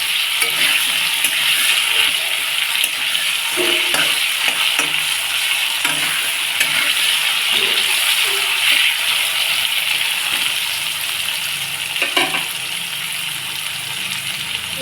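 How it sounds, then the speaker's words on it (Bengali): Vegetables sizzle and hiss as they are stirred and fried in a pan with salt, with carrot, capsicum and yardlong beans going in; a steady, loud frying crackle runs throughout with occasional clanks of the spatula, and no talking. "একটু একটু ভেজে নেবো নিয়ে তারপরে ওই সবজিগুলো দিয়ে দেবো"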